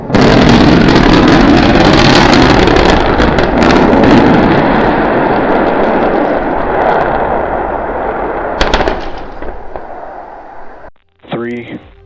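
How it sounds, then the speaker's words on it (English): Powerful rocket engine roar during a landing burn, loud and broadband, rumbles continuously and slowly fades, then cuts off abruptly; a brief tonal sweep follows at the end. "transition to 1 engine for the landing burn"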